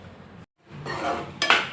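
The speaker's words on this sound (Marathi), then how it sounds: "तर अगोदर पीठ भाजून घेऊयात।" A utensil scrapes and clinks against a pan while rava and besan flour are dry-roasted, a close, steady stirring rasp that breaks briefly before growing louder.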